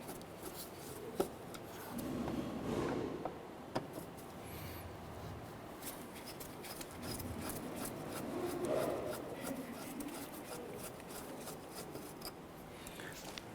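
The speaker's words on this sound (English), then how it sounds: "Use a Phillips head screwdriver. Remove the 2 screws holding the sensor in place." A Phillips screwdriver turns out screws from the mass air flow sensor of a 2008-2012 Honda Accord, giving soft close scraping and rubbing with a few sharp clicks, faint and without talk.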